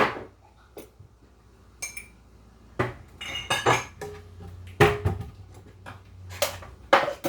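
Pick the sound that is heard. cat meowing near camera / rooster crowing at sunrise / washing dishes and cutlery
washing dishes and cutlery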